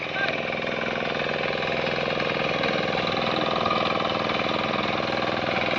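An approaching tractor engine chugs steadily at a constant, moderate loudness during Konkan rice planting, rumbling throughout without pause.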